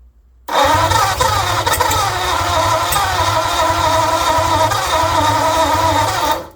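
A 1948 Ford flathead engine cranks, catches and settles into a steady, loud, close running rumble with a rapid pulsing idle that continues to the end.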